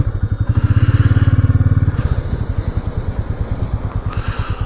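A motorbike engine thrums in a fast, even pulse, picked up close from a camera on the chin mount of a rider's crash helmet; the beat steadies and then loosens as the ride goes on.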